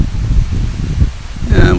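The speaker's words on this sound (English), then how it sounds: "Usually in the afternoon, this is when the wind comes up." Afternoon wind in Ocotillo, blowing in gusty rushes and buffets close to the microphone, uneven in strength, with a brief rising whistle toward the end.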